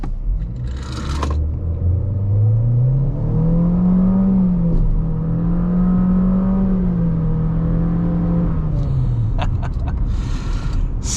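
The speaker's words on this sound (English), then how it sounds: "We'll put our foot flat to the floor and see how it does." A 2025 Chevy Equinox, front-wheel drive, pulls away at full throttle, its engine note rising steadily and then holding a strained drone before easing off, heard loud and close from inside the cabin with road rumble underneath.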